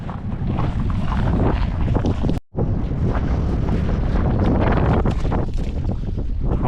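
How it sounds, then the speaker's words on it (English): Strong wind roaring across a lake while out fishing from a boat, loud continuous buffeting on the microphone with a brief dropout midway, no talk. "Well, needless to say, it's a little windy."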